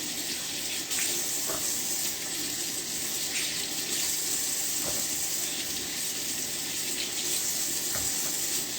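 Tap water runs steadily over eggplant and yam being rinsed in a kitchen sink, a continuous close splashing wash with faint clatter, no talking.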